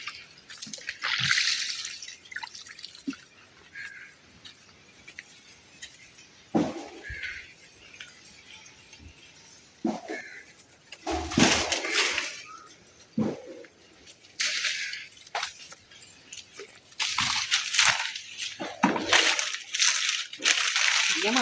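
Water sprinkled onto mulch around vegetable plants on a farm plot gives irregular bursts of splashing and dripping, some sharp and close, with quiet gaps between them.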